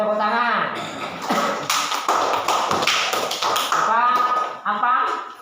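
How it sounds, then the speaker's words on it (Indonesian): Students in an Indonesian classroom clap their hands in quick, scattered bursts that grow into a dense patter, with children's voices talking and calling out around the applause. "boleh tepuk tangan."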